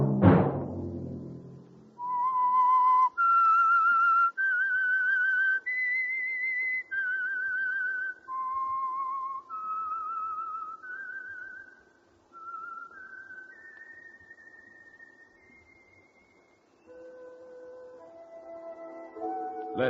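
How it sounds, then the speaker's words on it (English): A single person whistles a slow, wavering theme melody, the clear sustained notes rising and falling with short breaks between phrases, close and alone with no talk over it. "Let that whistle be your signal for the Signal Oil program, The Whistler"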